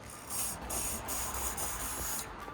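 Lubricant sprayed from an aerosol can onto the sunroof pin of an MK1 Renault Twingo, heard as several close, steady hissing bursts with short breaks between them.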